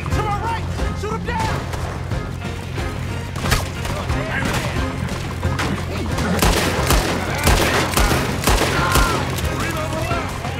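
Rapid gunfire crackles almost nonstop while enemies are gunned down in the Red Dead Redemption 2 video game, dense overlapping shots and splintering impacts mixed with game sounds, loud and close, with someone talking over the action.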